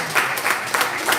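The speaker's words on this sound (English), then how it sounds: "Give a big clap to Jacob sir" An audience at a live gathering claps for a guest being called up, with a few sharp, rhythmic swells of hand claps about a third of a second apart over a softer spread of clapping.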